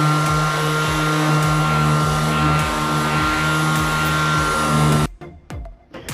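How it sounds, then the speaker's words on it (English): A handheld electric sander runs steadily on a pine wood box, a loud continuous whine with rhythmic pulses, then switches off and spins down into quieter handling noises. "we're just going to hit it with the sander and just take out any of the imperfections in the wood, smooth it out"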